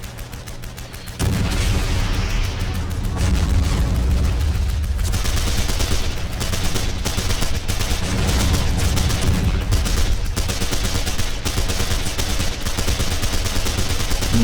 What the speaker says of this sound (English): Oh, Russian MG's opening up.